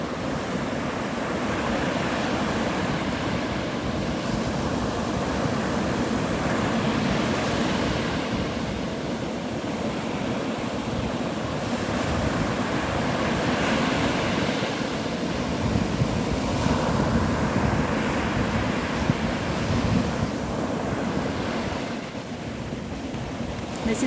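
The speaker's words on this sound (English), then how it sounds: "This is Navarre Beach, Florida." Continuous surf and wind at Navarre Beach, Florida, with waves washing in a steady roar and gusts buffeting the microphone throughout, no voices.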